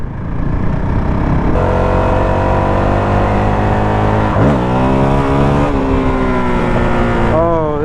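A Honda CRF450 dirt bike engine revving and accelerating up close, a loud buzzing roar that climbs in pitch through the gears in repeated surges, with wind noise and a rider's voice underneath.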